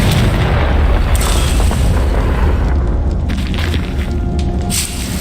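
A Confringo blasting spell explodes in Hogwarts Legacy, a loud, heavy boom with a deep rumbling blast that fills the whole stretch and fades slightly toward the end, with no voices.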